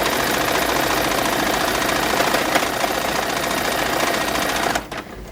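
A sewing machine runs steadily, stitching quilt tape into an 1860s-style petticoat, with a loud, continuous whirring rattle that stops abruptly near the end.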